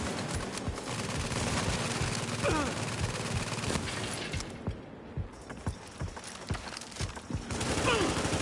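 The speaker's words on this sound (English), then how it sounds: "Maintain heavy fire." Heavy automatic gunfire in The Division shooter game, a dense continuous fusillade of rapid shots with mechanical clatter that thins briefly mid-way before resuming at full intensity, with faint combat voices.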